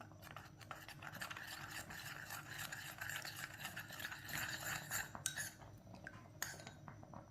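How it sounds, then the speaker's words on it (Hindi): A small spoon stirs custard powder with milk in a bowl, with steady scraping and light clinking of metal against dish throughout, close and fairly quiet, with no talking. "कस्टर्ड को अच्छी तरह मिक्स कर लिया मैंने।"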